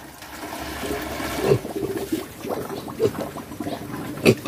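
Water splashes and gurgles as it is poured into a homemade piglet drinker built from scrap materials, sloshing unevenly for several seconds close at hand.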